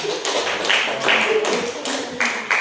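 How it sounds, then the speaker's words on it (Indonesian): A class of students claps their hands together in a classroom, with dense, fairly loud clapping in a few surging waves and voices mixed in. "Mereka tepuk tangan semuanya."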